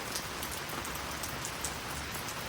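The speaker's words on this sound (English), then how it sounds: "It's been raining here since we arrived on Thursday" Steady rain patters on a camper, a continuous dense hiss with scattered droplet taps, no voices.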